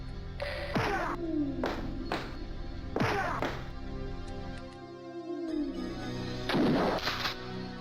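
Gunshots in the video game Alone in the Dark 3, three or four loud, sharp blasts spaced a couple of seconds apart, each trailing into a ringing decay over a steady low game soundtrack.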